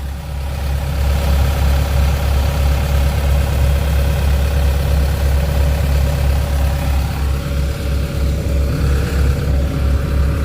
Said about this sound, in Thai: โอ้ฟังเสียงเครื่องใกล้ๆครับนิ่มมาก